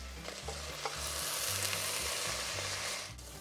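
Mixed vegetables sauté in a pan with a close, steady sizzle. A spatula stirs and scrapes through them repeatedly, and no voices are heard.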